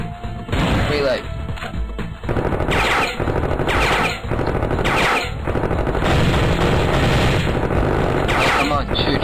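Rapid, loud gunfire in a Miniclip shooting game, dense bursts of shots with brief pauses, nearly continuous and up close throughout.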